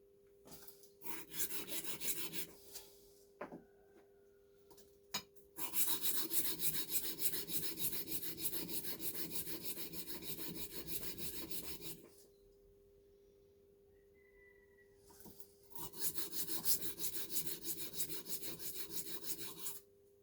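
Chef knife blade rubbed back and forth on a flat surface to remove the burr, two bursts of close rasping scrapes separated by a quiet pause over a faint steady hum.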